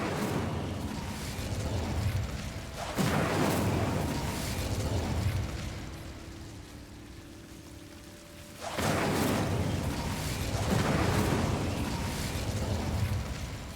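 The Incendio fire spell is cast in Hogwarts Legacy, a roaring, whooshing burst of flame that swells loudly, eases off in the middle, then surges again in a second long blast.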